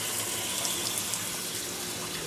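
Washing machine in an RV being unwinterized for the season, filling with water on a normal warm wash cycle: a steady, close hiss of running water pouring in without a break.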